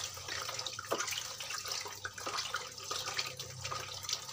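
Tap water runs steadily into a sink while taro is washed, a continuous close splashing rush with small irregular splashes and no talking.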